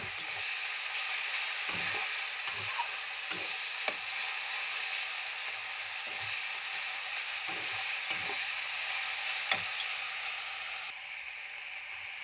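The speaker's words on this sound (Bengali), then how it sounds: "সব দিয়ে এখন ভাজবো পুরো ভালো করে, কাঁচা গন্ধ যাওয়া অবধি ভাজবো।" Spice masala with coriander fries in a wok for a soybean and potato curry, with a continuous close sizzle and occasional scraping stir strokes, no talking.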